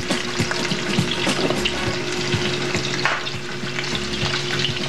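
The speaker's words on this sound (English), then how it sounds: "We start cooking the sausage, then we cook the lamb, and last is the meatballs." Sausage, lamb and meatballs fry in a pan for a sauce, a steady close sizzle with repeated stirring scrapes and utensil taps.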